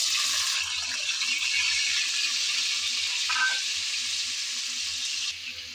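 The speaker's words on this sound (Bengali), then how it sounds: "শুরুতেই আমি চিংড়ি মাছ ভাজার তেলে আলুগুলো ভেজে নেব।" Large cut potato pieces fry in oil left over from frying shrimp, giving a loud, steady, close sizzle that carries on without a break and with no voices.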